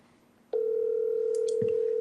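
A phone dials a number to return a call: a brief tap, then a steady electronic tone that holds while short keypad beeps sound over it.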